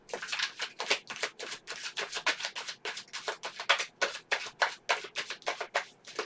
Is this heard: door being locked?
no